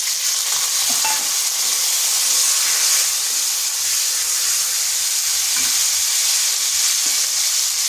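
Dried red chillies, a bay leaf and a tomato sizzling and spitting in hot oil in a pan, a steady close frying hiss with occasional stirring, no voices.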